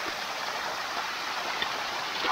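Steady, continuous rush of flowing water at the Bua Tong Sticky Waterfall near Chiang Mai, a close broadband wash with no breaks and no voices.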